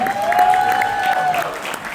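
Audience applause welcoming two performers at a Hindi literary gathering, a steady wash of clapping with a sustained tonal hum running through it.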